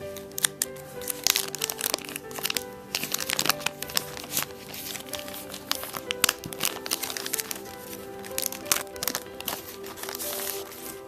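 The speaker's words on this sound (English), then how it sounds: "I believe someone complained about me tearing the bags open like that" Plastic wrapping on a pack of Fortress America 2012 board game cards being torn open, a steady run of crinkling, crackling rips close by with no talking.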